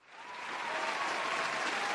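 Applause honoring the Denver Broncos after their playoff loss to the Bills: a dense round of clapping that swells within the first half-second, then holds loud and steady with no voices.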